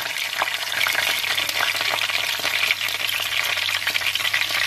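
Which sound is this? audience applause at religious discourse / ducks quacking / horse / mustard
mustard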